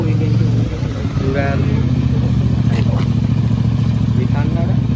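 A motorcycle engine rumbles steadily nearby at idle while people talk over it.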